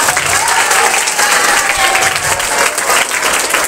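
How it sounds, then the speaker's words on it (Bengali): Steady applause from a school audience for a student named Rituśrī, filling the room evenly at a constant level without pause. "আচ্ছা, ঋতুশ্রীর জন্য হাততালি হবে।"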